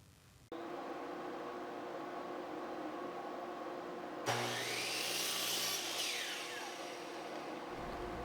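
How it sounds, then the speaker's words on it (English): A powered miter saw cuts through a wooden fence picket, a steady motor whine rising into a brighter, louder bite as the blade enters the board midway, close up and with no voices. "let's head over to the miter saw now, and we'll start cutting out the roof and the base"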